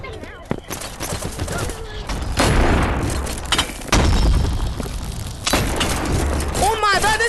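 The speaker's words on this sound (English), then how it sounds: "Bro, I'm getting spam shot." Rapid gunfire in the video game Animal Company, repeated sharp booms and cracks in quick bursts close to the listener, with excited shouting over the shots.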